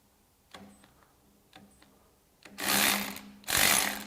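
A Matco Tools 16V cordless long reach ratchet, model MCL1638LR, ticks through a few faint clicks, then runs in two loud whirring bursts about a second apart, close up with no talking.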